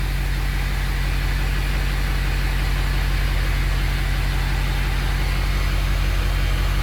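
Ford 6.0 Powerstroke diesel truck engine idling just after starting, a loud, steady, even rumble with a continuous rough hum and no change in pace, close to the engine, alone without talk.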